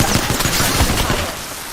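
A brief burst of rapid gunfire in a video game crackles loud and close, with several quick shots that fade into a low rumble.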